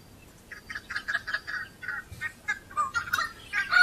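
A flock of corellas screeching in Nowra, repeated harsh, raucous calls in overlapping bursts at moderate distance over a low background hum.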